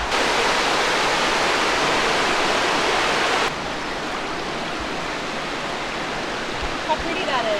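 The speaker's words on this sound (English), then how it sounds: "Look at the falls" A rushing waterfall at a camping spot roars as a steady, loud broadband wash of falling water, continuous throughout and dropping slightly in level partway through.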